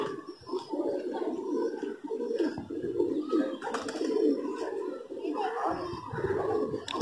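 Pigeons coo repeatedly in soft, throaty phrases close by, one of them a colored pigeon, with brief movement and handling noises between calls.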